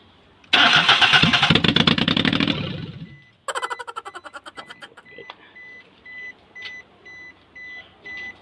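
A Suzuki DA64W, with its turbo removed during fuel pump wiring troubleshooting, cranks loudly for about three seconds, then cranks again in a shorter rhythmic burst, followed by a series of regular electronic chimes.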